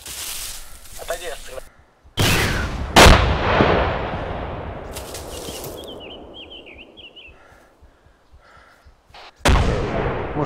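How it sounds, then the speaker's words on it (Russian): Gunfire and explosions in an ARMA 2 battle, including an RPG blast: sharp loud bursts around two, three and nine and a half seconds, each trailing into a long rumbling decay, with a faint chirping in between. "Там какой-то взрыв. А, это делаю за нас. Понял. Зоня, то что было? Это РПГ."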